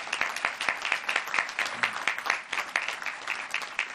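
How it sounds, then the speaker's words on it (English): Shipbuilders are applauded at the commissioning ceremony of the submarine USS Illinois, a steady, dense round of clapping from a large outdoor crowd, with individual claps standing out in a quick rhythm. "let's give them a rousing round of applause"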